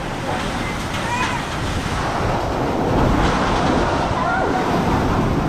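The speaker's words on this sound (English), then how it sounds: "It's very, very strong, the wind." Strong typhoon wind during Typhoon Rolly in Naga City, Bicol, Philippines, a steady loud roaring rush across the whole clip with gusts building toward the end.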